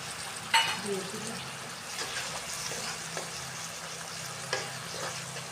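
Onions fry in a pan with Kashmiri red chili powder and turmeric mixed in water, giving a low, steady sizzle broken by occasional stirring clatter, with faint voices in the background.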